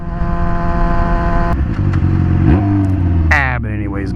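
A motorcycle engine held in fifth gear while riding, a steady loud mid-pitched drone with a slight shift partway through and a rising whine near the end, with no talk over it.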